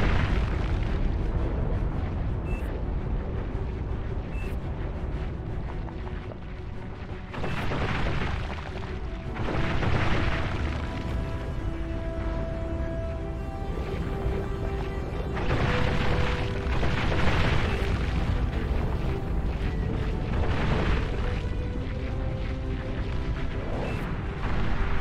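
Nuclear missile blasts in the strategy game Beyond All Reason, heard as several deep rumbling booms that swell and fade amid a dense, continuous battle din.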